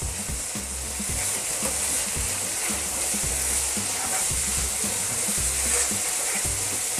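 Vegetable fried rice sizzling in a pan as it is stirred, a steady hiss of frying with rhythmic scraping and tossing sounds, close and alone.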